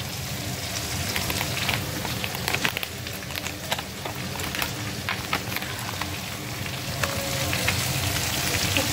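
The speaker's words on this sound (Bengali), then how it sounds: "এই যে ডালের বড়ি, এটা ভেজে নেব" Lentil dumplings (dal bori) fry in oil in a pan, giving a dense, steady crackling sizzle with scattered pops throughout and no talking.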